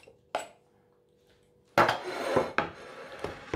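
Pickle slices for a homemade burger set down on a plate, with a few sharp ceramic clinks and knocks separated by quiet gaps, close and fairly clear.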